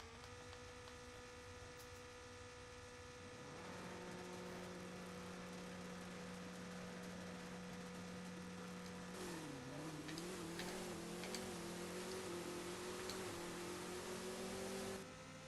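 A McLaren drag car in the racing game No Limit 2 idles with a steady engine tone, then revs up and holds a rising, sustained roar, loud and close, with no talk over it.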